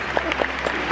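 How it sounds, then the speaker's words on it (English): A crowd claps outdoors after a changing of the guard ceremony in Taipei, a brief spell of scattered hand claps with a few distinct louder claps over a continuous background murmur. "All right, we started that clap."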